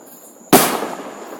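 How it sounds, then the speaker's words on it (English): Fireworks going off outdoors in Florida at night, a single sharp loud bang that decays into a crackling, rumbling tail over a faint background hum, with no talking. "People everywhere letting off fireworks."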